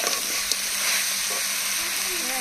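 Duck meat frying in a pan for a spicy papaya duck curry, giving a steady, dense sizzle with an occasional soft stir, close and continuous throughout.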